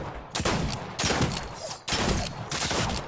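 Rapid gunfire in Fortnite, four loud dense bursts of automatic fire separated by brief pauses, close and harsh, without any talking.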